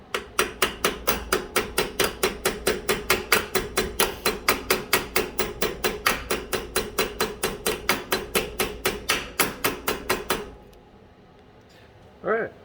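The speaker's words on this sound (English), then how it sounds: "make sure you get your smallest hammer when you do this" A small hammer taps on the tongue jack gear of a boat trailer in a rapid, steady run of about forty sharp metallic strikes, close and crisp, then stops, followed by a brief thud.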